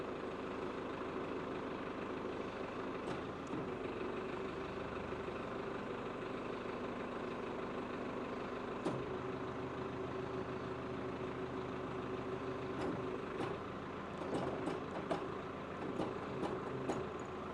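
A heavy Isuzu 7.5-tonne truck engine idles steadily at low revs with the PTO engaged, a constant low rumble with a few faint clicks and knocks over the top.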